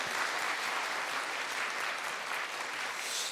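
A church congregation applauds in encouragement during a worship service, with dense, steady clapping from many hands that continues evenly without a break.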